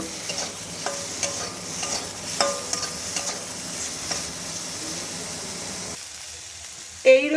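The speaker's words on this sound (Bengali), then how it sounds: "এই নুন আর হলুদ দিয়েই বেগুনটাকে আমি হালকা করে ভেজে নেব" Brinjal frying in oil with salt and turmeric, a steady close sizzle with scraping stir strokes and clinks of a utensil, the frying cutting out near the end before a brief louder clatter.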